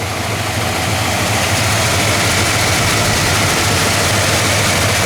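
A 1967 Dodge Charger V8 engine idles steadily and loudly nearby, a low, even rumble with no other sounds.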